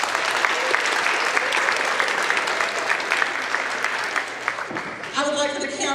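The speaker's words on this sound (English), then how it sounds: "Please give them all a big round of applause." A high school audience at an award event gives a big round of applause for guests from the county office and school system, sustained dense clapping for several seconds before a voice begins speaking at the end.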